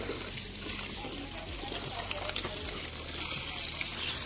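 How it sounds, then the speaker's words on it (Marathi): Water pours and splashes steadily onto dried-out garden plants in a broad, continuous gush, with a faint voice in the background. "त्यांना मस्तपैकी पाणी घालतो"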